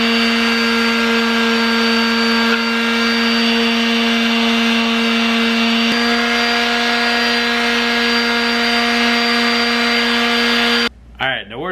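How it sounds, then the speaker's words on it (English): A mouse sander whines loudly and steadily as it sands cured Bondo on a cosplay visor, a constant close motor hum with a high tonal buzz that cuts off near the end. "you're gonna go back to the mouse sander and hit that really quick"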